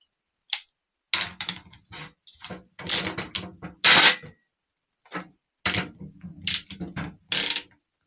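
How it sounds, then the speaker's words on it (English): A ratchet undoes the top nut on a CVR starter motor in short bursts of close, crisp clicking and rattling, separated by brief pauses. "So we'll undo the top nut."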